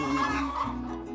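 A laying hen on an organic egg farm clucks in a short, close, throaty burst of a few notes.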